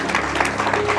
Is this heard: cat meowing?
no